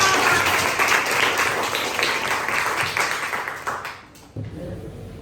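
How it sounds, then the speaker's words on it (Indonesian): A classroom group applauds after a quiz, a dense burst of clapping that gradually thins and fades, ending near the close as a voice begins speaking. "Tepuk tangan buat kita semua."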